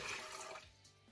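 Warm water, one and a half cups, pours into a mixer bowl for yeast roll dough, a close splashing gush that tapers off within about a second.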